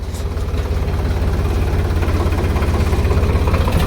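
A Sonalika tractor engine idles nearby with a steady low, pulsing diesel throb that runs evenly throughout, loud and alone.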